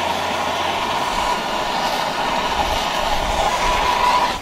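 A torch heats the key cylinder of a frozen padlock in the cold, giving a loud, steady roaring hiss that runs unbroken throughout.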